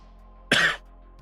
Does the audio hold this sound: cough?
yes